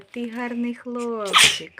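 A single sharp, loud sneeze bursts out right after someone speaks in a soft, cooing voice, close and abrupt at the end.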